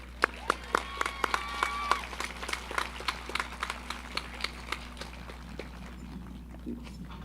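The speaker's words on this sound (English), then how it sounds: "I'm just going to give one more round of applause to all of our speakers today." Applause from a high school graduation audience for the day's speakers, a modest scattering of distinct claps with a faint tonal hum beneath, thinning out and fading toward the end.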